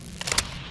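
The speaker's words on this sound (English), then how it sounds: "Changing mag." A rifle magazine change in Modern Warfare II, heard as a quick cluster of three faint mechanical clicks and clacks over a low steady background hum.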